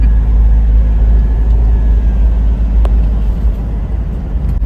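A car driving on mountain roads between Shimla, Narkanda, Rampur Bushahr and Karcham: a loud, steady close engine drone with rumbling road noise throughout, plus a brief faint tone and a couple of small knocks.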